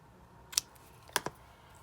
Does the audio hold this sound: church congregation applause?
no